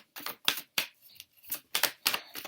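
Tarot cards are shuffled quietly by hand, giving a quick, uneven series of soft papery swishes and slaps about every half second, with no voices.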